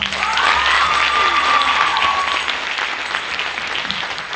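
Sustained applause from a theatre audience at a Christmas-eve music, dance and theatre show, steady dense clapping throughout with a faint whistled tone over the first seconds.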